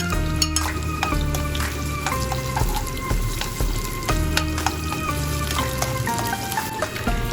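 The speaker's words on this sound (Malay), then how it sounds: "Kita tumis bawang besar dan bawang putih dengan sedikit minyak sehingga kekuningan." Onions and garlic sauté in a little oil for a crispy puri with sardine sambal, a steady close sizzle with the odd metallic stir and clink running throughout.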